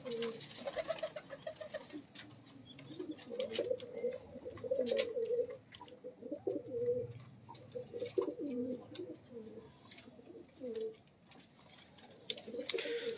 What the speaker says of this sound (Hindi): ये अमामदीन कबूतर है भाई।